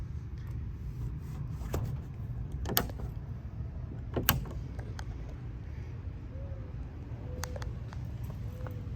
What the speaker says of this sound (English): you can actually hear the rubber squishing and making a solid seal when you close the doors